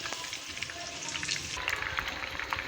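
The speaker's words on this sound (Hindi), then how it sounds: "3 से 4 मिनट ही दूसरी साइड से फ्राई करेंगे" Chicken fries in a pan over a medium flame, turned to cook its second side, giving a steady, even crackling sizzle with no one speaking.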